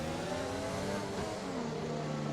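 Race car engines drone at steady, restrained revs while trailing a safety car in a Canada round of a sim racing series, several overlapping engine tones holding and slightly shifting pitch, loud and continuous with no talk.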